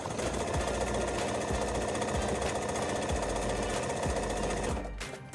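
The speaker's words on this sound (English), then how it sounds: "I'm gonna do my first stitch right here." A sewing machine runs steadily and loud for about five seconds, stitching a fabric donut-shaped dog toy, a fast mechanical rhythm of needle strokes with no talking, stopping near the end.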